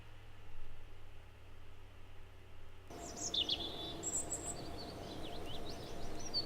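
Birdsong at the space center in Kerbal Space Program: after a quiet start, bright chirps and tweets come in over a steady hiss of ambient noise, repeated calls scattered through the rest of the scene.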